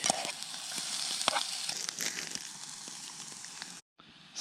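Chanterelle mushrooms cook over a campfire with butter about to go in, giving a steady, close sizzle and crackle with faint popping throughout before a sudden brief cut.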